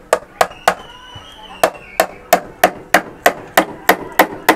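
A hammer drives a nail with about a dozen sharp, evenly spaced blows, close and loud, speeding slightly into a steady rhythm.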